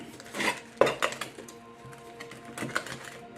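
Metal parts of a DIY twig stove clank and rattle as they are packed into a cooking pot, with several sharp knocks and scrapes followed by lighter shuffling clinks.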